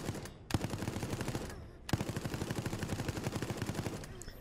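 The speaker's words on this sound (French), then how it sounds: "Mitrailleuse." Machine gun fire in the video game Resident Evil Resistance: rapid rhythmic bursts of shots with two sharp louder cracks, continuous and moderately loud, with no talk over it.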